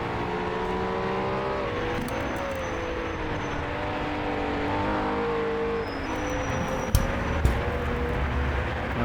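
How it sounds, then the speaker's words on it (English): A Nissan 370Z GT4 race car at Zandvoort drones steadily under load, and a couple of sharp exhaust pops crack out near the end. "Popping exhaust outside."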